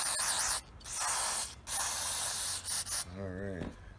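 Lubricant is sprayed onto a Predator 212 small engine during reassembly in several short, loud hissing bursts separated by brief gaps. A quick rubbing noise comes near the end.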